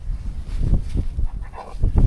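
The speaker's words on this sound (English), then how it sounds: "He's whimpering because he needs to keep moving." A Border Collie whimpers and whines in snowy blizzard conditions, several short close whines in quick succession against wind noise.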